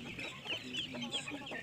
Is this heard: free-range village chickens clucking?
yes